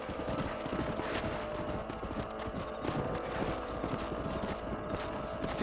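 Horses clip-clopping in the Red Dead Redemption video game, a steady patter of hooves on ground with an occasional whinny, close and continuous over a dense in-game ambience.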